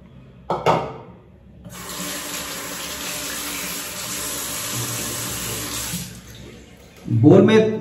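Tap water runs steadily into a shaving bowl holding sandalwood shaving cream for a few seconds, a close, even hissing stream that stops, followed by a brief handling knock.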